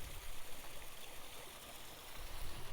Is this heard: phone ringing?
no